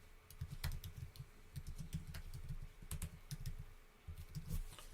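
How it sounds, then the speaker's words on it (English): Soft, rapid clicking of a computer keyboard as contact details are typed in, a quiet, continuous run of keystrokes with brief pauses. "So this is something we're going to type in."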